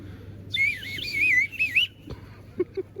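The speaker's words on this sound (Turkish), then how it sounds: "Bu Bursa'nın yöresel bir çalgısı düdük." A shrill düdük, a traditional folk whistle of Bursa, Turkey, plays a warbling, wavering melody in two short phrases close by, followed by a few faint knocks and quiet.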